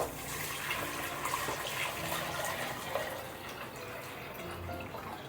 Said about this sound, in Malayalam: ഇനി നമുക്ക് വെള്ളം ഒഴിച്ചു കൊടുക്കാം.